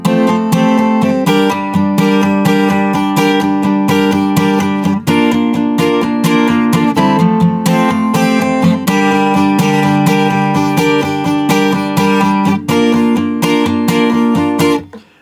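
Acoustic guitar playing a repeating chorus riff from a pop song, steady strummed chords in an even rhythm, close and clear with no talking, stopping abruptly at the end.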